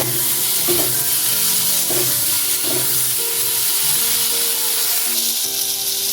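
Potatoes fry with turmeric in a pan, a dense continuous sizzle close up, broken by a few scraping stirs of a spatula, with no talking.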